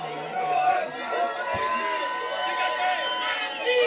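A protest crowd booing as Marine Le Pen arrives in June 2020, a dense, steady roar of jeering voices with scattered shouts and a brief thump partway.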